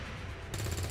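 Gunfire in the XCOM 2 video game, a brief burst of shots that comes in loud about halfway through a short stretch of steady game audio.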